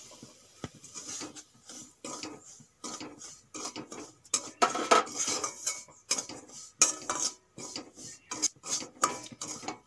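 Semolina fried in ghee in a pan, heard as rapid, repeated scraping and clinking of a spoon stirring against the metal, close and busy with short pauses.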